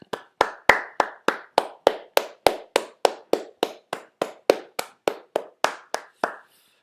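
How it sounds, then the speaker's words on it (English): Steady hand clapping, about twenty-two sharp, evenly spaced claps at a brisk, regular pace, close and alone with no voices, ending abruptly. "I'm still clapping, but I'm just going to turn my sound down so I don't hammer your ears."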